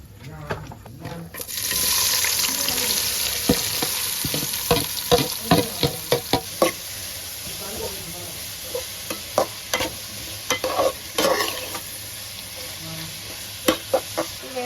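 Spices such as cardamom, cloves and cinnamon sautéing for beef curry, a steady close sizzle of hot oil in a pan broken by repeated scraping and clattering stirs.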